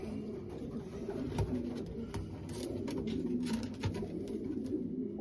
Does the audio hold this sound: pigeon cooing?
yes